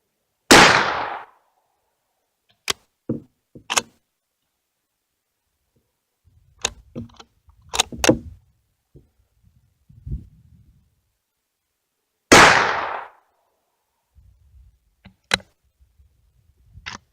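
A shotgun loaded with two slugs, its magazine faulty, fires two loud, sharp blasts about twelve seconds apart, each followed by metallic clicks and clacks of handling.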